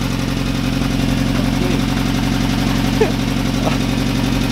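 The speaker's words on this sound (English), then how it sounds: "So it's idling in fourth gear." A 1969 Ford Capri engine idling in fourth gear, a steady, loud low rumble running throughout with someone talking faintly over it.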